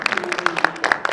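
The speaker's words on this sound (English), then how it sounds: "May I request you to give a round of applause for our rapporteur, Gyaneshwar Rao." An audience claps briefly in a round of applause for a conference rapporteur, short uneven claps against voices.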